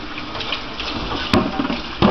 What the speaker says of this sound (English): You rinse your pieces off.